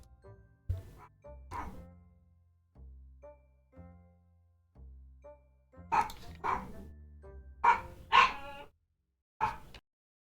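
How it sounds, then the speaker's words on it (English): A dog barks several times in irregular bursts, some single and some in quick pairs, fairly close and clear against a quiet background. "Dog barking."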